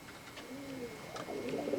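Indigo-bred pigeon cooing in a low, rolling series of throaty coos, fairly close and clear, with a few faint chirps in the background and no talking.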